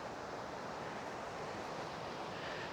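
Steady broadband rush of a river flowing close by at Whitehorn campground on the Berg Lake Trail in Mount Robson Provincial Park, a continuous even roar with no voices.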